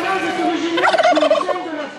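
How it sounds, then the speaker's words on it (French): Turkeys gobble in a rapid, wavering burst that swells mid-clip, with other birds calling faintly around them, at an agricultural fair. "on trouve des dindons"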